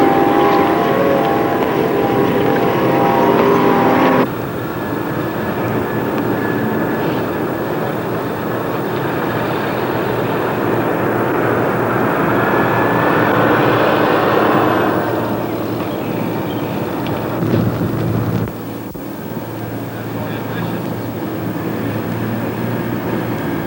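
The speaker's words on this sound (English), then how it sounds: "The specific model of B-52 that we're using in this theater is the B-52D." A B-52D Stratofortress bomber roars with a loud, steady broadband engine drone that shifts in tone partway through and dips near the end, with no voices.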